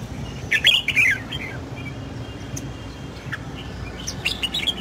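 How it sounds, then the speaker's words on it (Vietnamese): Caged songbirds kept by a collector chirp and squawk in sharp bursts, a cluster of calls early on and more toward the end, over a low background murmur. "Mấy em chim phía trong không được mang ra, đứng trong hót."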